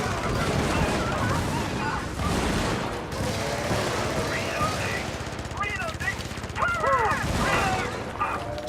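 Video game gunfire crackles in dense, rapid bursts like automatic weapons, steady and loud throughout, mixed with game effects and occasional tonal chirps.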